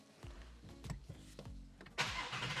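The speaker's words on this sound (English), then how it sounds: "now let's see if the Shelby starts" A Shelby car cranks over with a rapid series of rhythmic starter pulses after a JFEGWO jump starter is hooked up, then catches and settles into a steady running engine, close and fairly loud.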